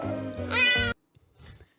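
A cat gives one loud, drawn-out meow from the film Baby Cat (2023), followed by a short pause and faint soft sounds.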